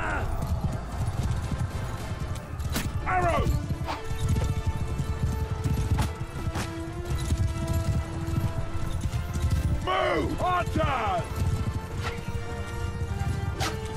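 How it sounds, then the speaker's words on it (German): In the medieval battle game Mount & Blade II: Bannerlord, horse hooves clip-clop steadily amid battle noise, with a few whinnying neighs cutting through and clattering impacts. "Da, Pferdchen, bleib stehen!"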